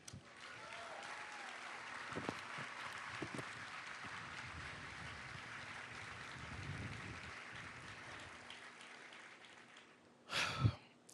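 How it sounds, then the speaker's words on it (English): A seated audience at the unveiling of the Embrace sculpture near Emerson College claps steadily for about ten seconds, a dense even patter that ends with a short burst of louder noise. "please join me right now in applauding this worthy partnership"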